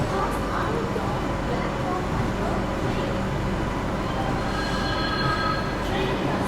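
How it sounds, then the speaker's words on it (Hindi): 22221 CR Rajdhani Express passing through Itarsi station without stopping, heard from on board as a steady loud rumble of rolling wheels and carriage noise with faint rail squeal, with voices talking over it. "चलिए दोस्तों ट्रेन अपनी इटारसी स्किप कर रही है।"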